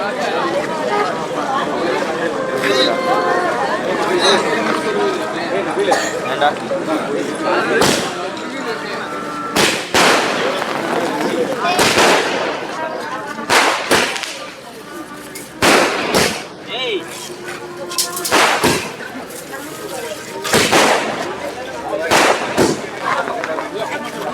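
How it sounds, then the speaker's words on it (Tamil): Aerial firework barrage of 240 shots at a Santhanakoodu festival in Kasipalayam, with repeated sharp bursts and crackles at irregular intervals amid a constant crowd murmur and chatter. "டூ ஃபார்ட்டி ஷாட் தான் நம்ம வானவெடிக்கு இப்போ வைக்கிறோம்"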